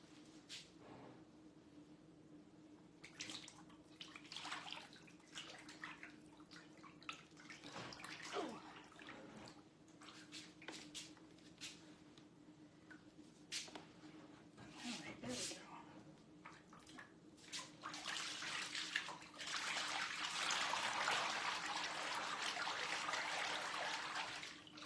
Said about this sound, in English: that's the very, very, very liquidy sound of the water